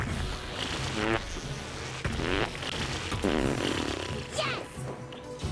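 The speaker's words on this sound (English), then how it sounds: "let's see if we can use fart core to get up here" Cartoonish farts from a fart-powered move in a South Park video game, several long buzzing, rippling blasts in succession, loud and sputtering, with game sounds mixed in.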